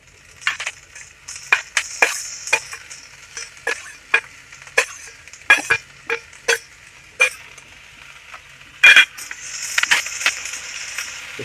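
Chopped green onions stir-fried for fried rice over a high flame, a sizzle broken by repeated sharp clanks and scrapes of a spatula against the pan at an uneven, brisk rhythm.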